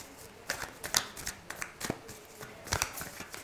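Tarot cards are shuffled by hand in quick, close bursts of riffling and flicking, with short pauses between them and no talk.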